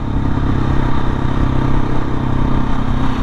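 A KTM 690 SMC supermoto motorcycle being ridden, its single-cylinder engine droning steadily and loud up close, with constant low rumble and wind noise throughout and no speech.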